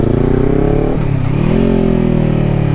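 A motorcycle engine revs hard as the clutch is let out too fast, a loud close engine note that dips briefly and then climbs again, steady and without talk.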